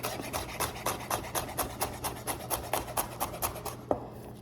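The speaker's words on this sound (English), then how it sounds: "my knife is a little bit dull, so you might hear some loud noises coming out of the cutting board" A dull knife chops through canned tuna on a cutting board in a steady run of about twenty close, scraping strokes, each one a rough rasp, ending in one sharper knock.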